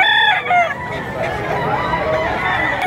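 Roosters crowing and clucking at a live chicken auction in Padre Garcia, Batangas, with a clear crow near the start and ongoing fowl noise under a busy, crowded background.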